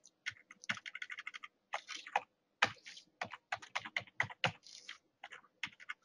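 Steady bursts of typing on a computer keyboard, quick close-up key clicks in short runs with brief pauses between, no talking over them.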